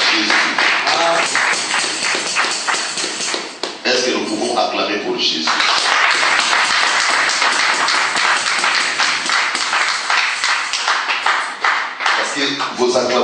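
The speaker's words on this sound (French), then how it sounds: "Est-ce que nous pouvons acclamer pour Jésus?" A church congregation claps and cheers together in worship, dense continuous applause with shouting voices mixed in, loud and sustained across the whole stretch.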